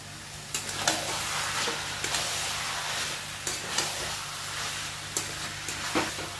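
Prawns fry with bottle gourd in a pan, giving a steady sizzle punctuated by sharp scraping clicks as a spatula stirs, with a low hum beneath.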